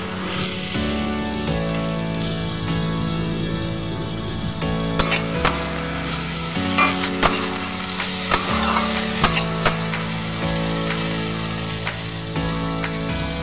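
Small mourala fish frying with vegetables in a pan, a steady close sizzle and crackle running throughout with occasional clinks of a stirring utensil against the pan.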